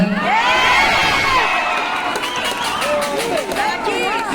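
A political rally crowd cheers and shouts loudly, with high whoops and excited voices rising over scattered clapping across a few seconds.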